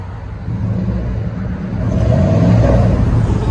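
Deep exhaust rumble from a Chevy 1500 truck's 5.7L 350 V8 running through a Flowmaster Super 44 kit, close and loud, swelling as the engine revs up partway through.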